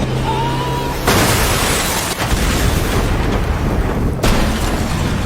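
Gunfire during a film car chase shootout, loud booming bursts that cut in abruptly and sustain as dense, harsh blasts, with a few sharp onsets punctuating the din.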